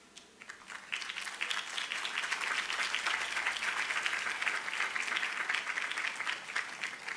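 Audience at a high school graduation ceremony applauding the school principal, a dense steady wash of many hands clapping that swells in after a quiet start and holds loud through to the end.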